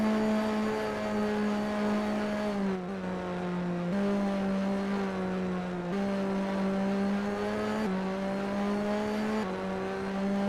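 A race car engine screams at high revs through Silverstone in a racing video game, droning steadily with brief pitch drops at each gear change, heard up close with no talk.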